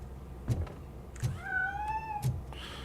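A cat meows in the video game Robocop Rogue City, a single drawn-out, rising-then-falling cry standing out over a quiet ambient background with a few soft thuds.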